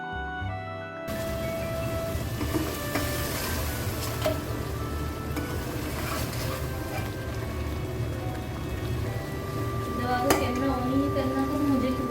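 Mutton chops being stirred and fried (bhuna) in masala in a pan, a steady sizzle with occasional scraping knocks from the spoon continuing throughout.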